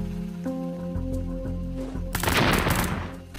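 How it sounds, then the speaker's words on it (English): Gunfire and grenades in the Roblox game Notoriety, a steady tonal hum giving way to a loud burst of rapid gunshots and crackling blasts in the last second and a half, close and alone. "Shoot and throw grenades at teammates."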